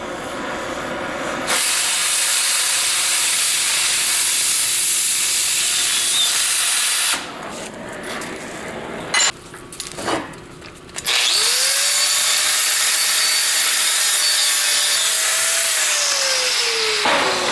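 A steel piece being cut for a homemade gold ore jaw crusher, giving loud continuous hissing cutting noise that breaks off midway, brief clanks and rustles, then resumes with a rising whine as the tool spins up.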